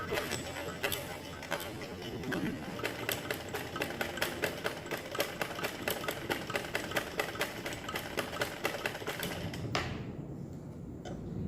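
A domestic sewing machine converted for embroidery stitches with thin thread, running as a rapid, even mechanical chatter of needle strokes close by for about ten seconds before stopping, with soft talk faintly underneath.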